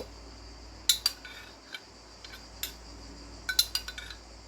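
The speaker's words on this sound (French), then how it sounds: "je vais mélanger mes graines de chia qui ont gonflé" A spoon taps and scrapes against a bowl or glass while soaked chia seeds are mixed into a mango dessert, giving scattered faint clinks and a few sharper chinks over a quiet background.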